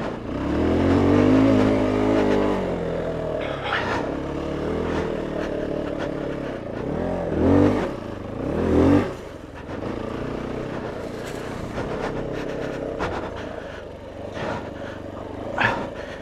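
A Fantic E Casa 250 dirt bike revs hard in several sharp rising blips during a log hop attempt, the engine note swooping up and down close by, with quieter idling between bursts.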